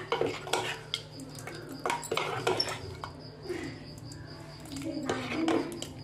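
Metal spoon scraping and clinking against a pan as bottle gourd and flaxseed curry is stirred, a series of irregular scrapes and taps at close range, with faint background voices.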